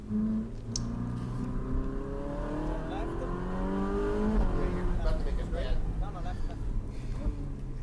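A car being driven on little country roads around Maranello hums and whirs steadily inside the cabin, its engine tone shifting as it speeds up, under continuous conversation.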